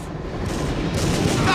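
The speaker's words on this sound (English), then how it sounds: "That's some slick shooting, man." Steady gunfire crackling through a continuous battle din in the shooter video game TimeSplitters: Future Perfect, dense and sustained, with no clear individual shots standing out.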